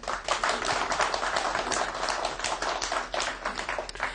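Studio audience applauding on a TV news debate show, a steady burst of dense clapping from many hands, close and fairly loud, with no talk over it.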